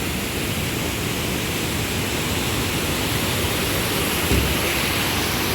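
A mountain river near Hemkund Sahib rushes close by in a loud, unbroken roar of churning water.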